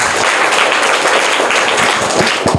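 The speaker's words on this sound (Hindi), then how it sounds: "इनके लिए भी जोरदार तालियां" A crowd gives loud, dense applause for the winners of a general knowledge quiz competition, clapping continuously and close up for under three seconds, with a few sharper individual claps at the end.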